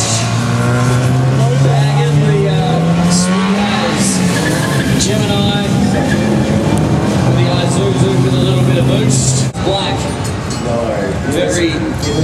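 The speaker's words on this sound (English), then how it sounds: "On up the V8 as well, a very nice car." A V8 car engine drives past close by. Its tone climbs steadily, then holds a strong droning pitch before dropping away, with someone talking over it throughout.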